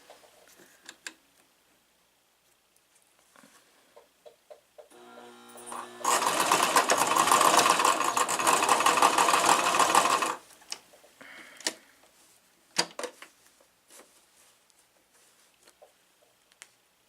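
A sewing machine runs a straight stitch in one continuous loud whirring burst of about four seconds, framed by scattered clicks and handling noises before and after.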